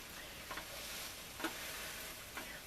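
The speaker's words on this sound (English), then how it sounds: "And it sure sounds good when it's sizzling like that too." Grilled cheese sandwich on mayonnaise-coated potato bread sizzles quietly in a frying pan, a soft continuous crackling hiss with a few faint ticks, close and low in level, with no talk.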